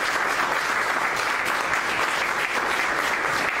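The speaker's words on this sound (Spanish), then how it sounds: "Dale una ofrenda de palmas para él." A church congregation applauds steadily throughout, a dense, even wash of many hands clapping at moderate loudness with no voices over it.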